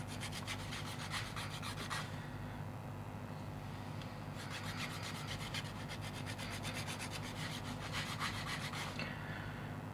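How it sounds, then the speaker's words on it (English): Plastic on a ChoroQ Honda S800 toy car being sanded by hand, with a metal ring used as a stop: a close, continuous rasping rub that swells and eases in steady back-and-forth strokes. "it's going to be quite easy to sand the plastic, right? So I'm using the metal ring as a stop."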